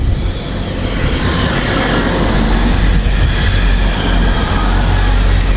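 A Grand Central Class 180 diesel unit, number 180 103, arrives at York station on a service to Sunderland, with a loud, steady rumble and rolling rail noise close by, holding throughout with no talk.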